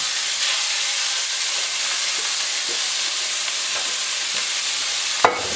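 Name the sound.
frozen spinach frying in olive oil in a hot pan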